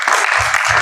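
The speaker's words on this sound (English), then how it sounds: "quick applause for the panel here, please" Short burst of loud audience applause for a panel at an enterprise tech conference, dense close clapping filling under a second with no voices.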